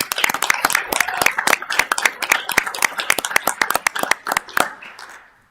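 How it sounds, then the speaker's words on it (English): A small round of applause at a Fargo Planning Commission meeting for a departing coworker named Megan, a few people clapping in quick, crisp bursts that thin out and stop near the end. "Let's give her a round of applause for me."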